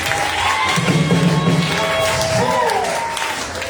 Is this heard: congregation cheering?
yes